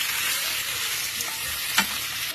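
Food fries in hot oil in a pan while being stirred, with a dense continuous sizzle and a few soft scraping strokes up close.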